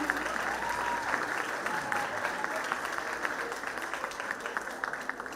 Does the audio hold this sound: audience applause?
yes